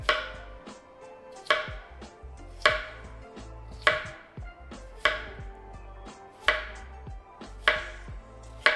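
Knife chopping potatoes into roughly 2 cm pieces on a board for a barbecue dish, about seven firm, evenly spaced thuds close up with no talking.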